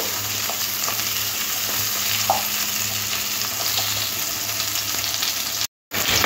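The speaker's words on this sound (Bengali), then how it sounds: "এই পটলগুলো একটু লাল লাল করে ভেজে নেব।" Halved pointed gourd (potol) pieces fry in hot oil, a steady close sizzle with occasional spits and stirring clatter, cut by a brief silence near the end.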